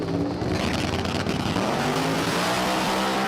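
Drag racing cars launch in a qualifying run at Empire Dragway, a loud, continuous engine roar with a rising rev that holds steady throughout.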